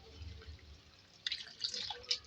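Water trickles and splashes into a cooking pot of boiled beef and potatoes for aloo gosht, faint and close, starting after a second of quiet kitchen background and running in short splashy bursts.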